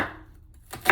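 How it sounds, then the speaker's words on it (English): Knife rough-chopping an onion on a cutting board for Jamaican jerk chicken, a brief close burst of blade strikes that fades and then returns with a sharper chop at the end. "So I'm just rough chopping everything."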